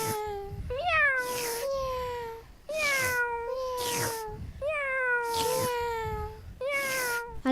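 Cartoon cats meowing at night, a series of loud, drawn-out meows in an irregular rhythm, each rising then falling in pitch, with occasional louder cries and no speech.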